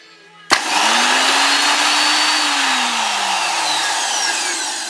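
An old salvaged electric drill rescued from a scrapyard switches on with a sharp click and its motor runs in a steady loud whine, the pitch rising then slowly falling as it spins alone.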